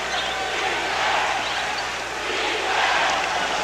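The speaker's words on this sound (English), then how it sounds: "Laker crowd starting to cheer defense" A basketball arena crowd at a Los Angeles Lakers versus Seattle SuperSonics playoff game roars steadily, swelling and fading in waves as fans cheer for defense, with no voices distinct above the noise.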